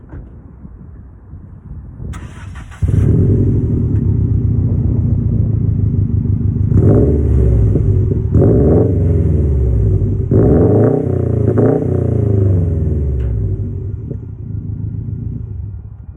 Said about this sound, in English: nameless performance exhaust, and I'll throw in a clip for you right now